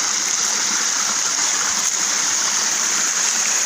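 Constant rushing hiss of cold stream water flowing close by, steady and unbroken with no voices.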